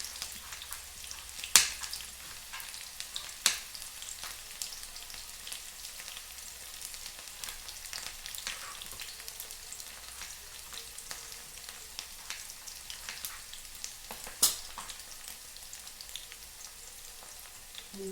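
Chopped onion with mustard seeds fries in oil in a pan until reddish, a steady soft sizzle with occasional sharp pops and crackles, close and quiet.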